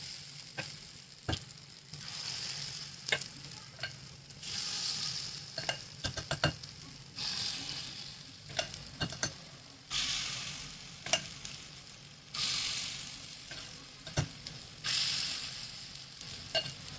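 Ragi appe batter cooking in a stovetop appe pan, giving a steady soft sizzle with repeated clinks and scraping stirs from utensils, no voices present.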